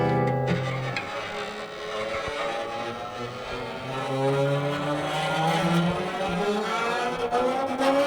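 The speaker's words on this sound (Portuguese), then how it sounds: "O carro." A car engine revs and roars steadily for several seconds with rising and falling pitch, loud and close with a busy mechanical rumble and no speech over it.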